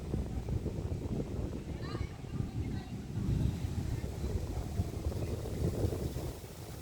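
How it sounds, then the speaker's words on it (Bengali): Strong wind before rain roars and buffets the microphone in a continuous low rumble, gusting harder at moments. "অনেক বাতাস, খুবই বাতাস হচ্ছে।"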